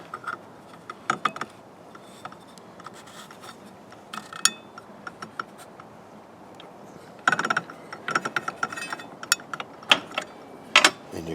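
Blade retainers are tightened on a tile saw, giving sporadic ratcheting clicks and sharp metallic ticks in irregular bursts over a faint background hum, close and fairly quiet with no talking.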